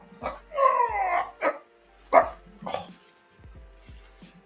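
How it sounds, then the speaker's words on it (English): A pet dog barks and yelps in several sharp, loud bursts close by, with a longer whining bark early on, then quieter thumps and shuffling. "Have you ever met my dog, by the way,"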